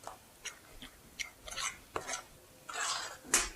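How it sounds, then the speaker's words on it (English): A spoon scrapes and clinks against a pan while stirring thick no-bake cookie mixture, in scattered, irregular strokes, close up and fairly quiet, with no voices. "I kind of like to stir it till the glossiness is gone."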